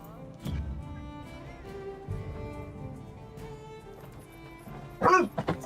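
Dogs let outside bark in a quick cluster of sharp, loud yaps near the end, after a stretch of quiet background music with a few faint earlier yips.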